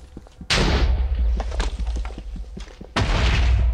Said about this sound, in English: I want to know what this explosion is.